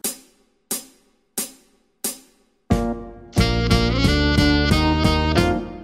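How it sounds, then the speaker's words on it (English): Four separate struck notes ring out and decay, then a rapid run of chromatic notes slides upward between pitches on a keyboard-like instrument as a jazz embellishment, ringing densely and alone. "what I'm doing here is putting a chromatic scale between these notes, and it has this cool kind of sliding effect"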